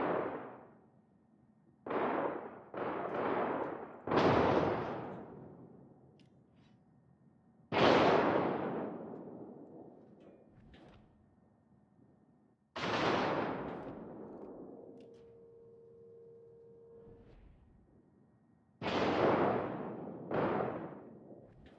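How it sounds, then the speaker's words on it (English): Warship guns fire in a naval combat video game with destroyers, sounding as heavy booming shots in clusters of one to three. Each boom has a long fading tail, with quiet gaps between the clusters and no talk. "Concentrate fire on the enemy warship."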